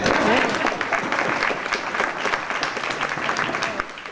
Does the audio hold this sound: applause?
yes